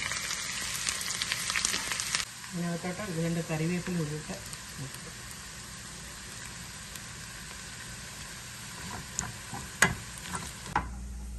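Loud sizzling of mustard seeds frying in hot oil, crackling steadily for a couple of seconds, then fading under a person talking.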